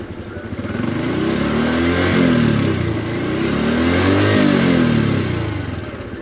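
A Honda Hunter Cub small motorcycle engine runs steadily up close, its low, quiet exhaust note rising and falling as the throttle opens and eases off, with no voices.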